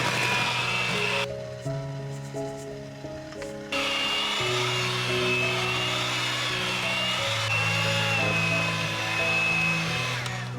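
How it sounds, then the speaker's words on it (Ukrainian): An electric mixer steadily beats honey cake batter as flour is added in portions, a close, even whirring motor that briefly dips in pitch and load partway through, with no talk. "Частинами додаємо половину борошна. Ретельно збиваємо."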